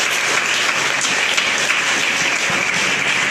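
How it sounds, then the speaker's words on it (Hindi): An audience at a Tuesday live prayer meeting claps together in a loud, continuous burst of many hands that holds evenly for several seconds without pause. "एक ताली बजा दीजिए।"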